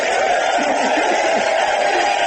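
Crowd cheering for President Obama, a dense continuous roar of many voices with shouts and whoops, loud and sustained without a break.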